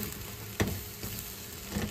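Food stirred in a single pan, a soft steady sizzle with one sharp scrape or clack near the start and quieter shuffling after, fairly faint and close.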